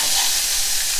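Garlic sizzles in hot oil in a pot over medium-high heat for a Jamaican curry goat: a steady, loud, close hiss of frying with no voices.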